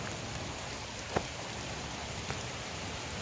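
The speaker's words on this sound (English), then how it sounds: "We got hail coming down." Hail falls outdoors in front of a house as a dense, steady hiss of pellets striking surfaces, with a couple of sharper isolated impacts standing out.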